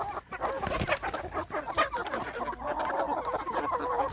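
Free-range village chickens kept for meat and sale cluck continuously at close range, with overlapping hen calls and a faint crow-like note, forming a steady busy farmyard chatter with no talk.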